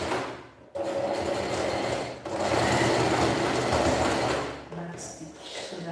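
A sewing machine runs steadily while top stitching fabric, a continuous close mechanical whir that pauses briefly near the start and again around two seconds in, then tapers toward the end.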